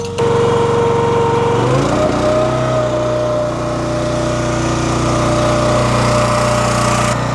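A Honda iGX390 engine on a Wolfe Ridge 17VS runs loud and steady at high throttle, a constant close drone that shifts pitch slightly early on and then holds.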